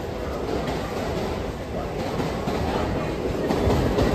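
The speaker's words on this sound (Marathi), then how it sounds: "ट्रेन पकडली आता" A train on a Mumbai suburban line runs loud and close, its steady rumble and wheel clatter filling the whole stretch without pause.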